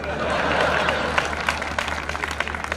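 Live audience of a Hindi comedy show clapping and cheering, a steady broad wash of applause with scattered sharper claps, loud and close for about three seconds.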